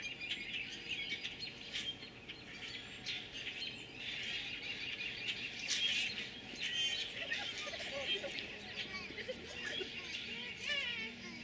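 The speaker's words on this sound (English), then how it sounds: "Listen to the birds." Birds chirp and squeal outdoors in Indiana during the April 2024 total solar eclipse, a steady chorus of small calls mixed with faint background voices and ambient noise.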